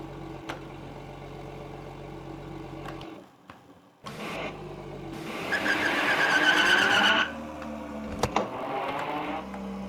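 A virtual car driven in a Unity game project produces engine and tyre-skid sounds that swell to a loud, bright stretch mid-clip, drop away, then return more steadily with a few sharp clicks.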